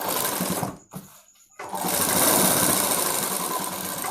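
An electric sewing machine stitching the neck of a school uniform coat, running in a fast steady buzz, stopping briefly for about half a second, then starting again and running on loud and close.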